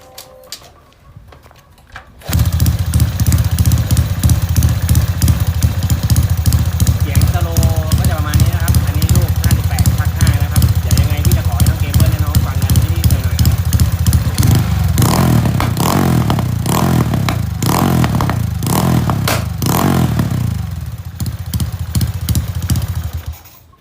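A Honda Wave 110i motorcycle engine kicks into life after a short quiet moment, then idles loudly and close with a fast rhythmic putter before several sharp revs toward the end, with some faint voices in the background.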